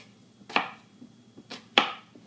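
Two sharp knife chops through potatoes on a cutting board, close and crisp, spaced about a second apart with quiet handling noise between them.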